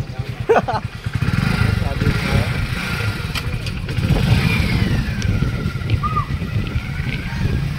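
A motorcycle engine sputters and runs unevenly, then idles and revs steadily close by, with people talking over it.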